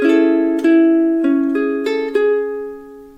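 A ukulele plays the first bar of a song as a short run of about six plucked single notes, clear and close, each ringing into the next before fading out.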